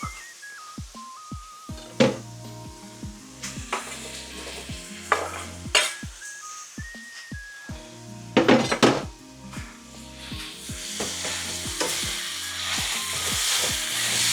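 Onions sizzle in a hot pan with pork belly while a utensil clinks and scrapes against metal, with stirring clatter throughout and the frying hiss growing louder toward the end.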